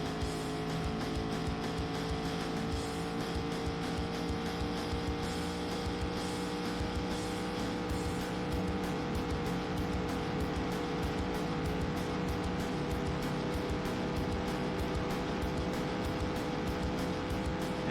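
NASCAR race cars roar in a PS1 racing game, a continuous dense engine drone with steady pitch and a faint rhythmic flutter running the whole way, no talk over it.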